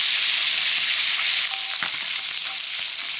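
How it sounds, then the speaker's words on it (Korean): Thinly sliced pork belly frying in olive oil in a hot pan, a loud, steady sizzle throughout with small crackles and a faint scrape near the middle. "팬이 달궈지면 대패 삼겹살 넣고 노릇노릇 맛있는 색깔이 돌 때까지 볶아주고요"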